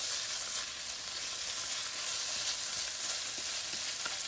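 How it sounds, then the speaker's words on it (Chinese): Shrimp and shredded pork stir-fried together in a large wok, giving a steady, bright sizzle with occasional light clicks of the spatula, close and without talk. "不用等肉丝全熟就可以下入鲜虾，这就是锅大的好处，可以同时把2个煸炒一下"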